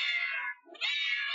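A cat meows twice in the CatBockes screensaver game, two clear drawn-out cries with a short gap between them, close and alone.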